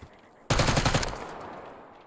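A rapid burst of automatic gunfire from shooting at opponents on the Nuketown map in Black Ops 6 snaps in suddenly after a quiet moment, a quick string of loud close shots trailing off into echo.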